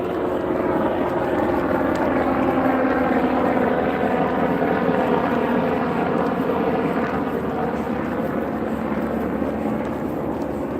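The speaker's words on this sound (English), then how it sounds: "guys hear that helicopter?" Continuous chopping roar of a helicopter passing overhead, loud and steady throughout, with no other sounds standing out.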